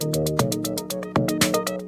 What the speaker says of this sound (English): So I got a 2 HP kick, snare, and hi-hat.